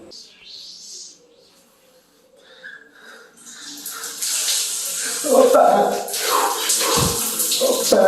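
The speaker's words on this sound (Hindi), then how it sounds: "अब मैं नहाता हूँ।" Hot water from a tank splashes and pours during a bath, starting faint and swelling into loud, continuous splashing with a few sharp bursts near the end.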